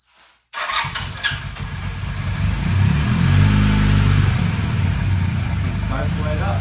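A Honda CB450T motorcycle engine, its carburetor jets freshly cleaned, catches after a brief silence, then settles into a loud, steady idle and rises into a sustained rev, heard up close with no talking.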